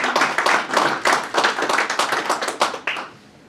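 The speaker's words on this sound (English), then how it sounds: "Give him a nice round of applause as he comes up." Audience at a Milton Keynes AI conference claps steadily for several seconds, a dense indoor round of applause that tapers off at the end.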